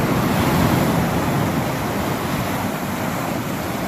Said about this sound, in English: look how high those waves are